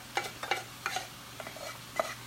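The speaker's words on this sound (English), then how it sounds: "You can stir that in for Mama." Wilted spinach with garlic stirred in a pan, a quiet series of soft scraping strokes and light utensil clicks over a faint background hum.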